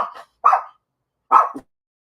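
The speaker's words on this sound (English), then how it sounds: "I say hysterical barking." Three sharp dog barks close by, a quick pair followed by a pause and one more.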